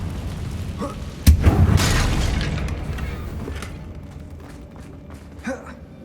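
The Confringo fire spell in the video game Hogwarts Legacy goes off with a sudden sharp crack followed by a heavy booming explosion that rolls and fades over several seconds, with lighter thuds and a faint gasp afterward.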